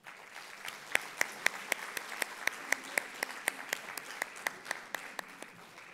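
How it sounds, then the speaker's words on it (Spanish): Audience applause fills a plenary session hall at a financial inclusion conference. Crisp individual claps stand out at a steady rhythm over a dense, even wash of clapping, moderately loud and with no talking. "Damas y caballeros, por favor, les brindamos un muy cálido aplauso."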